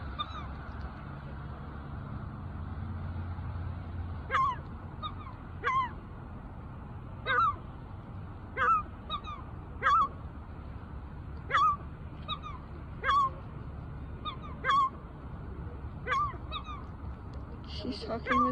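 A seagull calls to its mate in a series of short, honking squawks spaced every second or so, fairly near over a low, steady background hum.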